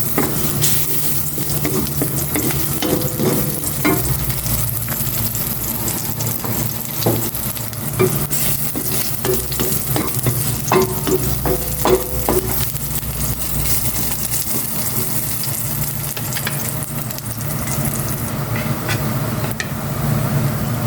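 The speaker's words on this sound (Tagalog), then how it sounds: "Gisa ko na itong bawang" Garlic sautéing in a little cooking oil, a continuous close sizzle with occasional utensil scrapes and knocks, no talk.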